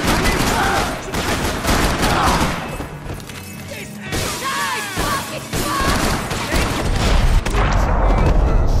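Dense volleys of gunfire in the video game Max Payne 3 roar almost without pause, loud and close, with booms and crashes mixed in and voices shouting over the fight.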